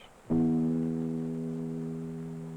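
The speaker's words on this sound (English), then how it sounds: "When he picks this string, it sounds like this." A single guitar string is plucked once, ringing clearly with a sustained tone that slowly fades.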